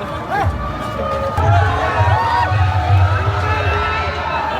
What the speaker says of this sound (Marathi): किती गर्दी आहे इकडं